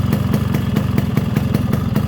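A modified Yamaha RXS 115 motorcycle idles nearby with a steady, even, throbbing putter, loud and unbroken, with no voices.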